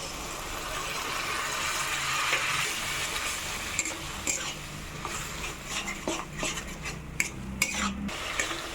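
Masala with whipped yogurt being stirred in a pan for a Bengali chitol fish kalia, soft sizzling under scraping spatula strokes that grow into sharper, irregular clinks of metal against the pan.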